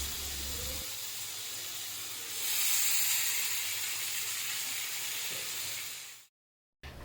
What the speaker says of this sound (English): once the pan and the oil is hot enough, I'll be grilling the paneer tikka one color at a time.